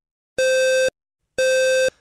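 Low-frequency smoke alarm signal: two loud, steady buzzing tones of about half a second each, separated by a one-second gap, with no voices.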